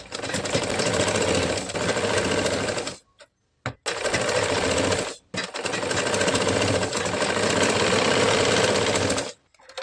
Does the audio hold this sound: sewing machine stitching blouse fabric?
yes